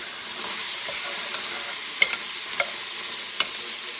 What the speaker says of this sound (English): Stir your vegetables around every little bit.